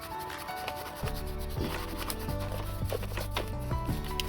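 A brush scrubbing a motorbike chain, with steady rhythmic rasping strokes that are close by and fairly quiet, broken up by a few sharper scrapes and no talking.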